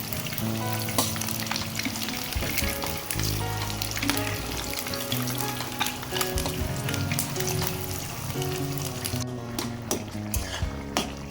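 Eggs frying in oil in a pan crackle and spit loudly and continuously, mixed with frequent clattering utensil scrapes and knocks against the cookware, all close by.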